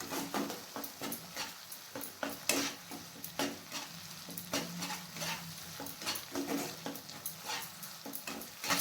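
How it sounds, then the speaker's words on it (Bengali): Spoon stirring ginger paste into tomato paste in a pan, with repeated scraping strokes at a steady rhythm over a soft sizzle, close and moderately loud, no talking. "আদা বাটাটাকে টমেটো পেস্টের সাথে ভালোভাবে মিক্স করে নিতে হবে।"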